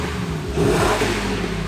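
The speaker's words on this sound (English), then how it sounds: "Then I added the Gibson catback exhaust to mine, and now it sounds like this." A V8 Toyota 4Runner fitted with headers and a Gibson catback exhaust revs briefly, giving a deep, throaty growl that swells and eases back, heard up close.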